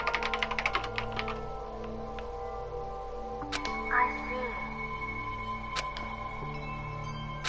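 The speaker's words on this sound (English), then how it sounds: "She'll be typing again." Keyboard typing sound effect from the video game Danganronpa: Trigger Happy Havoc, a rapid burst of clicks at first, then sparse isolated taps under a steady game music bed.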